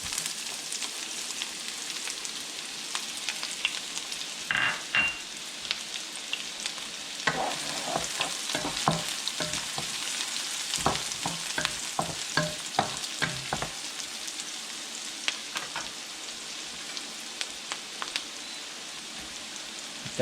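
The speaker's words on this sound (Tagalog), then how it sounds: "manggigisa na tayo. Siyempre, yung ating bawang. Sunod yung ating sibuyas." Garlic and then onion sautéing in hot oil for a pork pata pochero, a continuous close crackling sizzle with frequent sharp spatula strokes and pops throughout.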